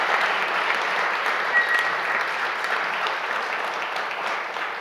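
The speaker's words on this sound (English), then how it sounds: "Please give yourselves a big round of applause" Audience applause for awardees at an awards ceremony, a dense, steady wash of many hands clapping that carries on unbroken at a strong, even level for the whole stretch.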